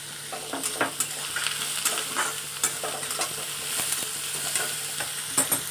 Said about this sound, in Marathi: कांदा थोडंसं मीठ टाकते कांदा भाजण्यासाठी